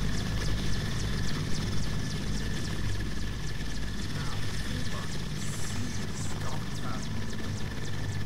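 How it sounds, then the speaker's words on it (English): A low-flying helicopter in the video game STALKER Lost Alpha: a constant dense rotor drone with a faint rhythmic thudding, loud and unbroken throughout. "That helicopter flies really damn low."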